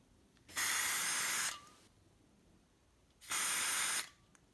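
Two bursts of aerosol spray hiss nearby, each about a second long and separated by a short pause, in otherwise quiet surroundings.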